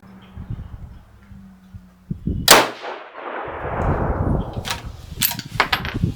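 A single sharp rifle shot from a 6mm GT loaded with 108-grain Berger bullets, a loud close crack followed by a rolling echo and some clinking handling noise afterward.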